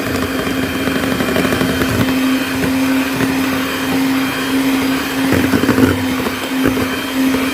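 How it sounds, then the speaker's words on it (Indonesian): An electric mixer beats marble sponge cake batter with egg yolks and vanilla powder, giving a loud, steady motor whine and hum without pause or talk. "Lalu mixer kembali."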